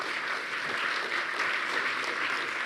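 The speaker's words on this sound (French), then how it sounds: "on peut l'applaudir" An audience at a conference on the railway landscape applauds a speaker, giving a steady, full patter of many hands clapping at a moderate level from start to finish.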